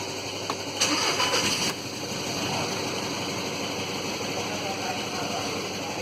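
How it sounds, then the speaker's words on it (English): A VW Touran 2011 1.6 TDI diesel cranks briefly, fires on the first try and settles into a steady idle close by. "Well, it starts up first time, no problem."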